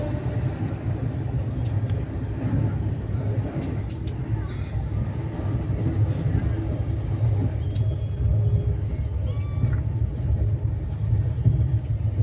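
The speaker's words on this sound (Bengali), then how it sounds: "ঝড়ের গতিতে ট্রেন এগিয়ে চলেছে আমাদের তার গন্তব্যের দিকে।" An express train, the 12354 Howrah weekly superfast running from Varanasi toward Howrah, races along at speed with a steady, loud low rumble and rushing noise that holds throughout, plus faint squeals and clatter on top and no talk.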